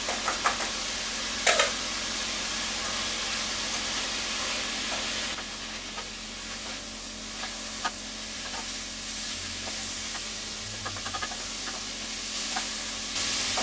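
Rhubarb, cherries and cinnamon go into a pan of nearly dry wild rice pilaf, giving a soft steady sizzle with occasional stirring scrapes and clinks.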